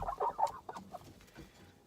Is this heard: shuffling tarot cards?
no